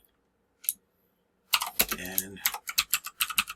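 Rapid close keystrokes on a computer keyboard, a brisk burst of clicks following a single earlier tap, with a brief spoken word in between.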